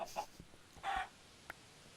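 Chickens in Minecraft give a few short, close clucks spread across about two seconds, with one louder burst near the middle. No one is speaking.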